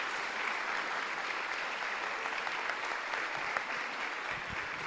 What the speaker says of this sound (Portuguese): Aplaudo ao Senhor, meus irmãos.